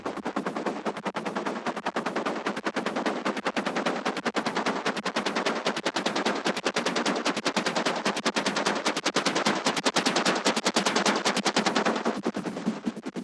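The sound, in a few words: synth sequence sound in a film music cue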